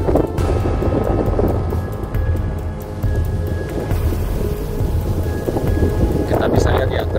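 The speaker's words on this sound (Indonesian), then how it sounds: "Kita bisa lihat ya terjangan angin saat ini." Strong, steady wind roars across an open field where large kites are flown, a loud continuous rumble with buffeting gusts and no speech.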